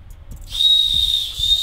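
A novelty festival whistle blown through the nose sounds a steady, shrill high tone. It starts partway in, drops out briefly, then sounds again, with low rumbling underneath.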